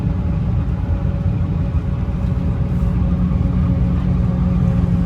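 A New Holland forage harvester working a slope and feeding crop into its header gives off a steady, heavy engine rumble that stays close and continuous with no voices.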